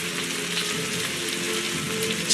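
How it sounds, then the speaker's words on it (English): Steady rain falling on outdoor surfaces, a dense, even hiss with soft patter throughout, fairly close and uninterrupted, with no talk. "It's still raining."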